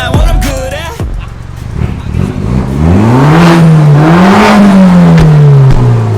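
A BMW 316i with a full stainless steel exhaust and custom stainless downpipe revs up loudly and close by, its engine note rising and holding a strong, wavering drone after a short blip at the start.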